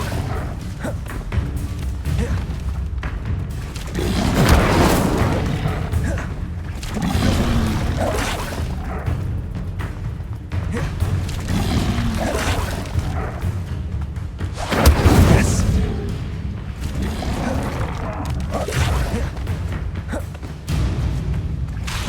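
Incendio fire spells cast repeatedly in Hogwarts Legacy, each a low thudding whoosh of flame bursting out, with two heavier booms standing out amid the busy, steady game sounds.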